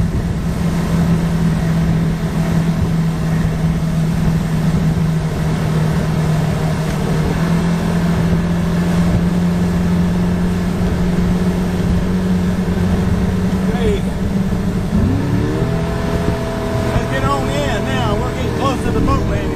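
A motorboat engine running near 5,000 RPM over rough, wind-whipped waves, heard as a loud, steady close-up drone that holds throughout and shifts pitch near the end.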